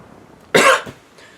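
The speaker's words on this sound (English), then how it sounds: "usually cough and growl and grunt a good bit" A single hoarse morning cough right after waking from sleeping with a fan running, one strong burst followed by a short weaker catch, close and loud in a quiet room.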